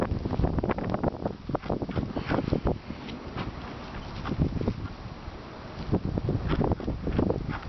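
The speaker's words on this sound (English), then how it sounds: "the snow is starting to fly around and blow around here" Wind from a Chicago blizzard blows hard and gusts steadily against the microphone, a continuous rushing roar swelling and easing with no voices.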